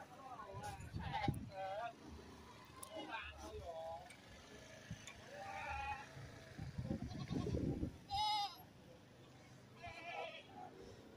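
Goats bleat repeatedly at Pasar Timoro, a livestock market in Blitar, where kids and bucks are for sale; several calls come at irregular intervals, some near and some farther off, over a murmur of market background noise.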